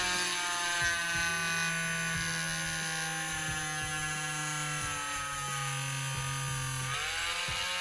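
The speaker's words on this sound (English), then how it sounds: "You want to drill in the center of the peg as most centered as possible." A small power drill bores into the plastic thigh peg of a DC Icons Nightwing action figure, a steady whirring motor hum with a held pitch that shifts slightly before stopping near the end.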